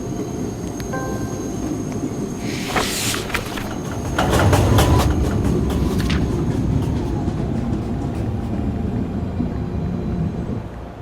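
A Manhattan-bound NYC subway 1 train, an R262, runs steadily with a broad rumble, screeching bursts and a louder surge midway, continuous throughout with no talk.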